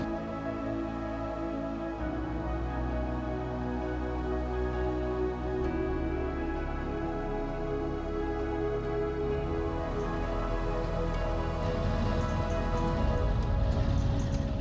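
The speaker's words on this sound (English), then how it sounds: "Uh-oh, the rain's starting." Steady, dense rain falling in the truck-driving game SnowRunner, a continuous wash of sound that holds constant throughout with no talking.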